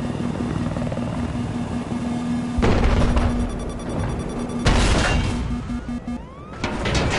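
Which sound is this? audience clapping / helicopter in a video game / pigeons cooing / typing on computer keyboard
helicopter in a video game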